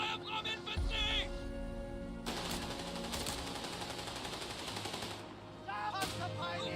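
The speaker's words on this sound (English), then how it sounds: "Small arms fire from infantry!" Small arms fire from infantry in a wartime video game, rapid bursts of gunshots and machine-gun rattle crackling steadily at moderate distance, with brief shouted voices at the start and end.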